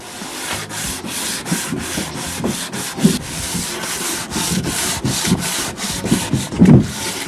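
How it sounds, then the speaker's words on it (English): Steady rhythmic sanding on wood, a rough scratchy rasp repeating in quick back-and-forth strokes, close and continuous with no talking. "I'm going to give it a good sanding here"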